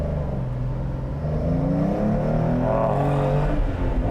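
A 2020 Porsche 992 911 Carrera 2S with a 7-speed manual pulls hard up a hill out of a turn, its engine note rising in steady harmonics, loud and continuous from close by.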